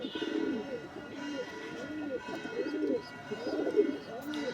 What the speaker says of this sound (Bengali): এই দেখুন, নর পায়রাটা আপনাদের শখ করাচ্ছি।